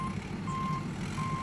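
JCB reversing alarm beeping at a steady interval, a few evenly spaced tonal beeps over a low engine rumble, moderately distant, at a river truck accident recovery scene.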